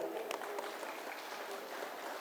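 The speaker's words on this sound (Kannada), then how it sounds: "ಅವ್ರಿಗೊಂದು ಜೋರಾದ ಚಪ್ಪಾಳೆ ಬರಲಿ" An audience claps at a women's meditation gathering in Dharmasthala, Karnataka: faint, distant, steady applause from a crowd with scattered sharper claps, thin and low in level.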